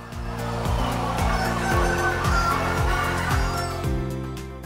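Chickens on a poultry farm cluck in a dense, overlapping chorus, with repeated rhythmic calls from many birds filling the space at close range and no talk.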